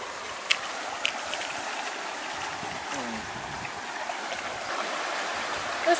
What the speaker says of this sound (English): So we just came to a river, and we think we actually have to cross this river to get to the Fervedouro.